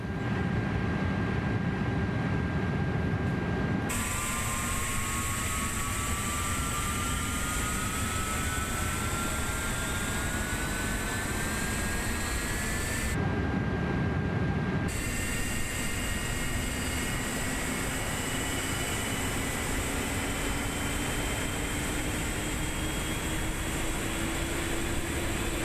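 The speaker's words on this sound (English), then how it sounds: "Engine number 2 coming alive." An Airbus A330's number 2 jet engine spools up in Microsoft Flight Simulator 2024: a steady, loud turbine roar with a whine that rises slowly in pitch over about 25 seconds, with no talking.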